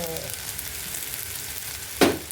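Egg and capsicum side dish frying in a pan, a steady close sizzle throughout with a brief louder scrape or stir near the end.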